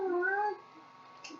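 A house cat gives a single drawn-out meow, close and clear, with a faint short chirp trailing after a pause.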